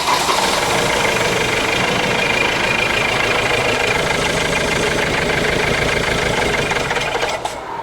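A Ford Transit diesel engine idles during an injector leak-off test for bad injectors, a loud, steady, close clatter with a low rumble that holds throughout and dips slightly at the very end.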